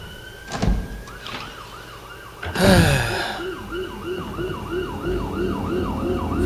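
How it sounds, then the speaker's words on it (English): A police siren wails, rising and falling repeatedly in the distance outside, steady and continuous, with a car passing and a thump partway through. "That police sirens are not in the game"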